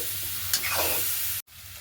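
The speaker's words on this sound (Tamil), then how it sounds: "போட்டு நல்ல வடிவாக இதோட சேர்வத்துக்கு கிளறி விடணும்." Pieces of breadfruit fry in a pan while being stirred, a short burst of close sizzling with a scraping stir before a sudden brief cut.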